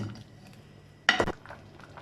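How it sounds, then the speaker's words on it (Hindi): A metal spoon gives a single quick scraping clink against a pot of sweet seviyan (vermicelli) cooking on the stove, brief and fairly close, with quiet stillness before and a soft simmering hush after. "अब इसे मज़ीद 2 से 3 मिनट तक चम्मच हिलाते हुए पकाएंगे"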